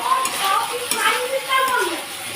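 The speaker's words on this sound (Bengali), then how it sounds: "মশলাটাতে আমি হালকা জল দিয়ে ভালোভাবে কষাতে কষাতে এখন যে ফুলকপি আলুটাকে ভেজে রেখেছিলাম এটাকে দিয়ে দিলাম" Fried cauliflower and potato are stirred into a simmering masala in a pan, with a spoon scraping and turning through a wet, bubbling sizzle in short repeated strokes, heard up close.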